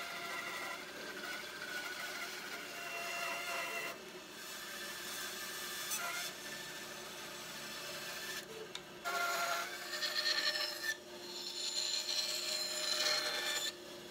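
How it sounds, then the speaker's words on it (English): A bandsaw cuts rough wooden utensil blanks, making a steady, moderately quiet hiss and rasp of blade through wood, with brief pauses and shifts in pitch as each piece is fed through. "I'm going to take these over to the bandsaw and just sort of cut them out"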